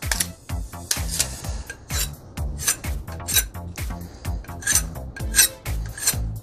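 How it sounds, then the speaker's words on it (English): Snowboard wax scraper being cleaned of old wax, a series of close, sharp rasping scrapes in an uneven rhythm, loud and alone. "I'm just going to clean it off real quick, get the old wax off of it"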